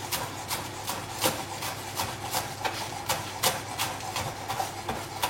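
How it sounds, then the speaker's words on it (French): A knife chops fresh parsley on a cutting board in quick, steady strokes, about four per second, each a dry close-up tap over a faint background hum. "du persil, j'en ai pas mal, donc je ne vais pas m'embêter. Je vais le couper comme ça"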